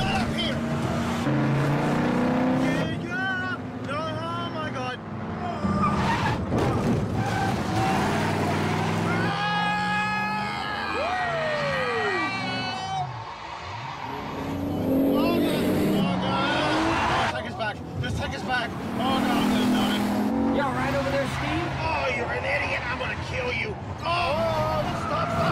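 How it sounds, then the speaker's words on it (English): A car drives and revs hard, its engine note rising and falling under loud, urgent shouting voices throughout. "Stop the car right now!"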